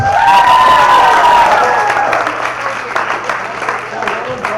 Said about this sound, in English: Huge round of applause for our volunteers